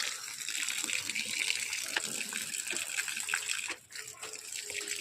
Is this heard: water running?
yes